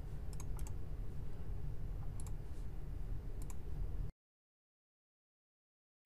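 Sharp mouse clicks on a computer while setting hyperlinks in PowerPoint, a few quick pairs and clusters at close range in a quiet room, followed by silence.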